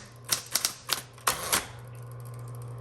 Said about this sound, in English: This is an excellent typewriter.